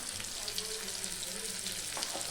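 Fenugreek and mustard powder fry in hot oil for a tempering, giving a continuous close sizzle and crackle with no talk.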